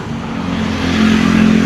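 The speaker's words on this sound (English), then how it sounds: "the traffic is very noisy" Busy street traffic in Thailand, a steady loud roar of engines with a rising rev as a vehicle accelerates close by, no talk over it.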